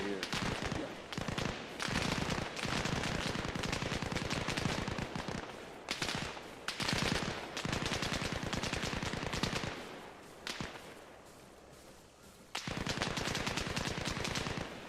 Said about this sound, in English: Looks like they were shooting into that guard shack.